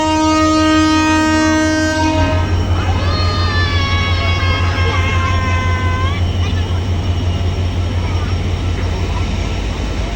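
The Khulna–Rajshahi Kapotaksha Express intercity train at Alamdanga railway station sounds a loud, multi-tone horn for about six seconds, then its heavy rumble carries on close by, with voices mixed into the noise.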